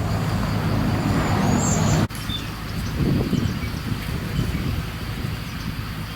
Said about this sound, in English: Got a vehicle just going in there.